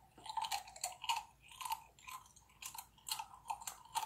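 Crunchy food is chewed close to the microphone, with repeated crisp crunching bites in a steady rhythm and little else around it.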